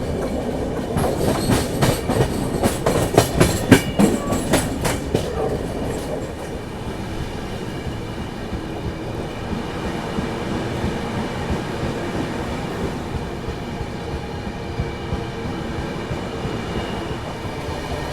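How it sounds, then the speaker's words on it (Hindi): The Chennai Duronto Express accelerates onto the main line, with loud rhythmic clickety-clack of wheels over rail joints in the first seconds, then settling into a steady rumbling roll of the moving train heard from inside. "क्या एक्सेलरेट किया अपनी दुरंतों ने मेन लाइन ज्वाइन करते ही।"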